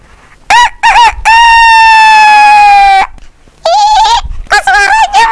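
A voice imitates a rooster's crow, loud and close: two short calls, then a long sustained crow, then more quick calls, with speech in between.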